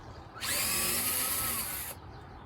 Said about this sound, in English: so now we can just unbolt this and then take the whole entire steering wheel off